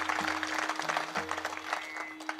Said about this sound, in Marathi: म्हणून एकदा जोरदार सर्वांनी टाळी वाजवा